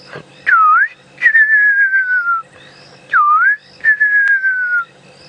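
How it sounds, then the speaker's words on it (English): A fiery-necked nightjar calls during a sunset safari drive: two loud, clear whistled phrases, each a short dipping note followed by a long, slowly falling quavering whistle, close and alone against a quiet background. "Might be able to hear that fiery-necked nightjar."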